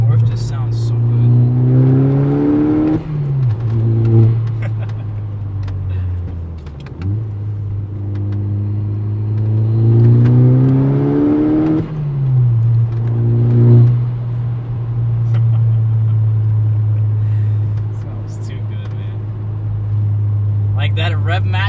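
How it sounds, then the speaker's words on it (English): A Mk6 Volkswagen Golf R engine revs up repeatedly on a B road, pitch climbing then dropping with each gear shift, a strong continuous drone carrying through several pulls. "the underload third to fourth just sounds so good"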